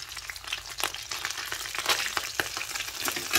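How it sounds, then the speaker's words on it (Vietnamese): Basa fish frying in hot oil in a home kitchen, a steady dense sizzle with crackling pops throughout, close and fairly loud, no talking. "Con cá ba sa nãy mình bỏ vô chiên luôn"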